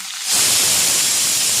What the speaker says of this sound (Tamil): பார்த்தீங்களா கீரை விசில் வந்துடுச்சு